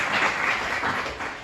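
Students at a high school religious quiz final applauding, a brief dense burst of clapping at steady loudness, with no voices heard.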